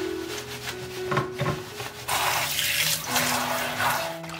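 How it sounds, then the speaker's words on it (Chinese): Tap water runs over pumpkin shoot leaves being rinsed in a sink, a close splashing stream that softens briefly, then pours fuller and steadier for the second half, with no voices. "然后用清水冲洗干净"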